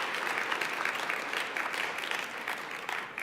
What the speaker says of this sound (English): Let's give another round of applause for Sandy, our keynote.